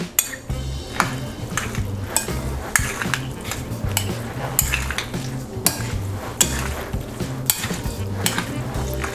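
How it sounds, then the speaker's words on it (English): Rotini pasta salad being stirred together with mayonnaise in a bowl, giving a steady run of wet, squelchy mixing sounds with repeated spoon or utensil clinks against the dish, close and moderately loud, with no one talking. "Make sure you mix it really well"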